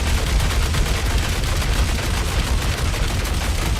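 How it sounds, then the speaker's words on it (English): Star Citizen energy weapon fired continuously with the trigger held down, a dense unbroken stream of rapid shots, loud and close, with no pauses. "Let me try and fire it."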